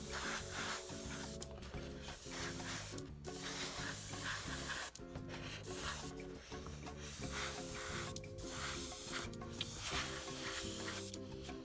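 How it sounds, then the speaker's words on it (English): Airbrush hissing steadily as paint goes onto a 28mm A15 Crusader model tank, continuous and close, broken by several short pauses between passes, with soft background music underneath. "using an airbrush is really the most efficient way to go"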